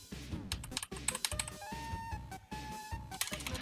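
Computer keyboard keys being pressed while playing Undertale, quick irregular clusters of clicking keystrokes close up and quiet, with short pauses between bursts and a faint tone from the game behind.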